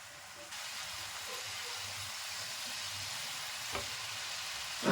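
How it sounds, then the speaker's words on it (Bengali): Onion, ginger, garlic and green chili paste fries in hot oil for a prawn malai curry, giving a steady, fairly quiet hiss that runs on with a brief clink near the end and no voices. "তারপর মশলাটিকে সুন্দর করে আবারও একবার কষিয়ে নেব"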